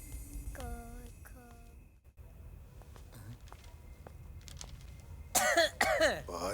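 A person coughs and clears their throat in a few short, harsh bursts, the loudest near the end, with other voices and soft movement nearby.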